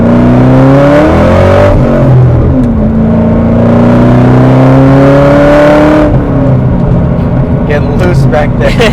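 Widebody, bagged and boosted Ford Mustang GT accelerating hard in second gear, engine rising in pitch then holding a loud, close roar, with people talking over it.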